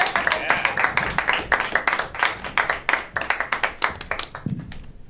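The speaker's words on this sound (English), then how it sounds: "I want you to give it real loud applause" Loud audience clapping and applause for the opener at a stand-up comedy show, a dense crowd of hand claps that swells and fades out near the end, with some voices mixed in.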